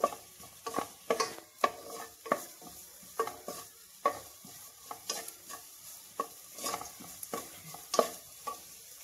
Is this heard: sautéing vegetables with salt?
yes